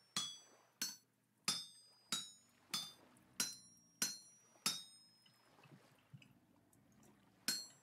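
Metal struck on an anvil into a saw blade in the game Vintage Story: about ten sharp ringing hammer blows at a steady, roughly regular pace, close and clear with no talk.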